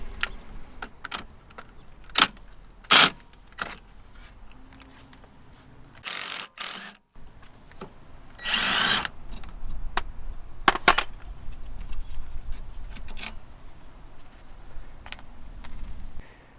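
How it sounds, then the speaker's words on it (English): A hand tool works on the 15 mm bolt and 18 mm nut holding the air strut on a Range Rover L405: scattered metallic clicks and ratcheting bursts, with a few louder clanks and pauses between them. "Now we have to remove the bolt that holding air strut in place."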